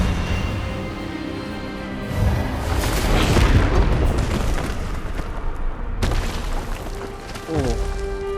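A spell-casting blast effect from the video game Hogwarts Legacy, a booming, explosive burst that swells and rolls for several seconds, with a second sharp impact near the end, under game music and voices.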